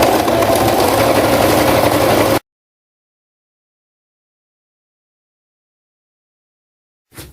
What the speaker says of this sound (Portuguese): a gente vai costurar esse viés tudo em volta do decote.